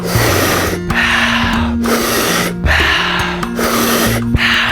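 Deep, forceful breaths during a breathing exercise, drawn in rapid steady cycles about once a second, loud and close, with soft music underneath.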